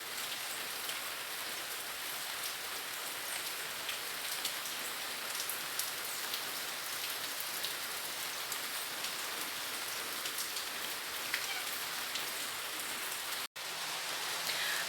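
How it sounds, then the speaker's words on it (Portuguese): Light rain falls steadily outdoors on a Monday morning, a continuous even hiss of drops on surfaces with no speech, holding constant throughout apart from a brief cut near the end. "mostrar a chuvinha que tá lá fora"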